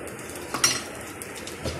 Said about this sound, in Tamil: லிட்டு போட்டு மூடி வச்சுருங்க